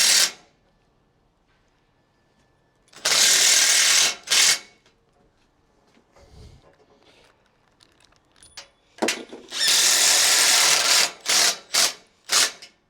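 A power drill drives screws into an aluminium slat gate, whirring in several short, loud bursts separated by quiet pauses and faint handling noises.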